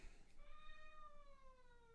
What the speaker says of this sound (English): it is the cat you hear